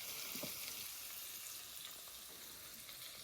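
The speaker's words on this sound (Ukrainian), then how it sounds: "шкварчать шкварки" Pork cracklings and onion fry in a pan with a steady, soft, close sizzle that carries on evenly throughout, with no one talking.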